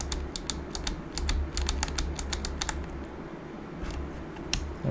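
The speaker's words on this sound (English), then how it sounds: "then I can begin to tap the W button on the keyboard" Rapid keystrokes on a computer keyboard as the W key is tapped repeatedly, a crisp irregular clicking for about three seconds over a low steady hum, then fading.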